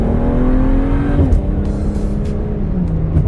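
Car easing onto a highway exit at quarter throttle, a steady engine drone whose pitch climbs and then drops with a gear change, heard loud and close with some wind and road noise, no talk.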